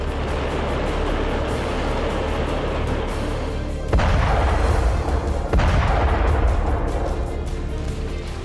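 Artillery shelling in eastern Ukraine's Donbas, heard as heavy, distant booms over a constant low rumble, with two stronger blasts standing out midway.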